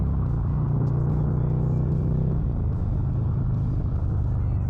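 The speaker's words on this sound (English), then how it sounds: "I'm trying to hear the engine noise." Harley-Davidson Street Glide Special engine rumbling low and loud while riding, a deep steady drone with a brief rev change midway, muddied by rushing wind noise.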